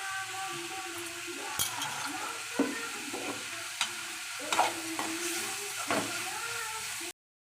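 Ridge gourd poriyal with grated coconut being stirred in a pan, soft sizzling under a series of distinct spoon scrapes and knocks against the pan, close and alone before the sound cuts off abruptly.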